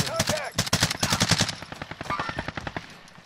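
Rapid bursts of automatic gunfire in an online shooter match, sharp repeated cracks in quick rhythm that thin out into scattered shots, with a voice talking briefly over the fire.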